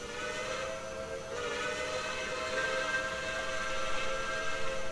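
A steady steam whistle from Texas State Railroad 2-8-2 locomotive #400 in the Trainz 2019 simulator, a sustained multi-tone chime over soft hiss, holding throughout at moderate level with no voices.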